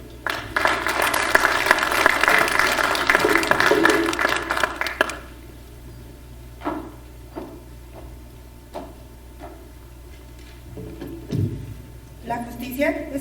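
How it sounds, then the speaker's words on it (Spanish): Audience applause at the first congress of the BJMCP in Mexico City: a burst of loud, dense clapping for about five seconds that stops abruptly, followed by scattered knocks and small handling noises in a quieter room. "Por favor, un aplauso."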